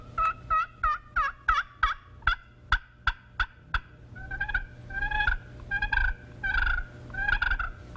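An aluminum turkey call mimicking a turkey: a run of sharp, rhythmic yelps and clucks, then longer raspy purring notes, close and clear with no talking.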